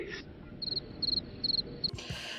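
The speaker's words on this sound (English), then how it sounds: "crickets." Crickets chirp in short, regular pulsed bursts, three clear trills with a brief fourth, over a faint low background hum, with a louder rustle at the very end.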